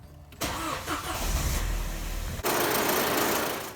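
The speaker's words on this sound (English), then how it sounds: "We'll go ahead and start the car." A 2007-era Audi A4 2.0T FSI B7 engine cranks briefly and catches, then settles into a steady, close idle, just after rear coolant flange and heater hose replacement.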